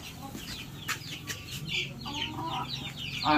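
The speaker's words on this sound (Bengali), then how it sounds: "এইগুলো আমাদের এখানে যে মুরগিগুলা" Chickens, including Light Brahmas, cluck and chatter in a busy farmyard, several birds overlapping at close range with a steady low background hum.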